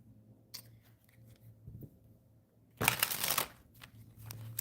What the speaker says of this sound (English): I'm going to shuffle these cards